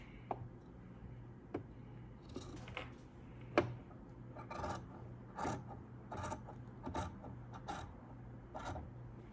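Scissors trim a fabric seam allowance down to 3/8 inch while sewing, a quiet series of irregular crisp snips and soft scrapes close by, spaced a second or so apart, with no talking.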